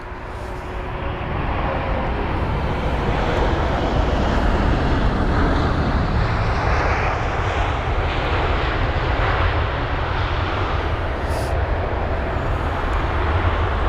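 A 25-year-old British Airways Boeing 777-200ER airliner at Heathrow gives off a steady, loud jet roar and broad rumble that hold for the whole stretch, with no voices over it.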